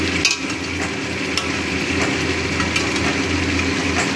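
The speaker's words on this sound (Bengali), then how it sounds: "চিকেনটাকে ভালো করে এখন কষিয়ে নেব" Chicken is sautéed and stirred in a pan for a home Sunday lunch. A dense, constant frying hiss sits over a low steady hum, broken by a few light utensil taps.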